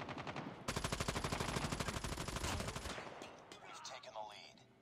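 Submachine gun fire in a Call of Duty Nuketown team deathmatch, a rapid sustained burst of evenly spaced shots lasting about two seconds, then fading into quieter game ambience.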